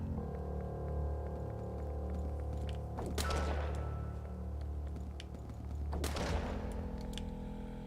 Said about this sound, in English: And 6 shots to kill a hunter.